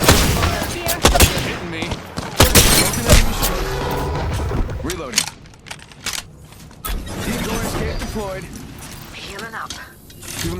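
Video game gunfire in bursts and rapid automatic volleys, loud and close, with shattering impacts and booms, while a voice talks over the action.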